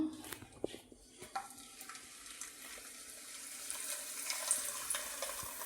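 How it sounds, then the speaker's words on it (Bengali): A palm-fruit paratha fries in hot oil in a pan, giving a faint, steady sizzle that grows slightly hissier toward the end, with no talking. "এবার এটাকে ভেজে নেবো"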